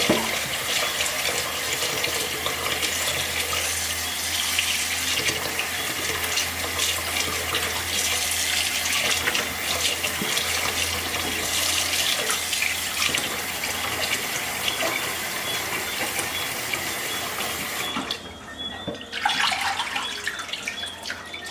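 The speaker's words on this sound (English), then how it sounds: "So I like to start to see that I can see through the goddamn water." Chicken being rinsed under running tap water in a kitchen sink for Caribbean stew chicken, a steady hiss and splash of the stream with irregular splatters as the meat is handled, briefly interrupted near the end.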